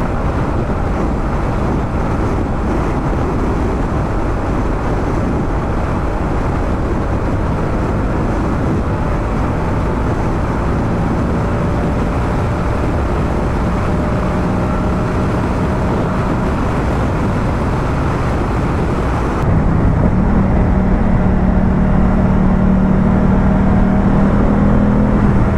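A 2023 Moto Guzzi V100 Mandello motorcycle in Sport mode cruises on a highway with steady, dense wind roar and engine drone. The engine tone shifts lower and more hum-like near the end while the steady roar continues.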